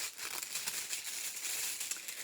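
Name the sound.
unwrapping a package, crinkling wrapping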